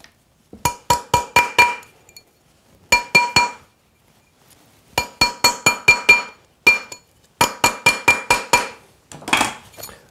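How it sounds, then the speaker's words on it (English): A silver ring tapped on a metal mandrel in quick bright clinking bursts of four to six strikes, repeated in several close, crisp groups with short pauses between. "Put it up onto your mandrel, give that a bit of a tap."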